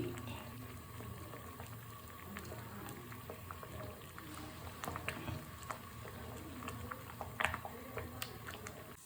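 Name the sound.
sambar with red amaranth boiling in a pot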